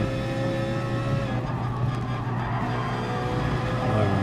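A Ferrari 458 races around the Bathurst circuit in GT Sport, its engine note loud, dense and continuous throughout, with no pauses or talk.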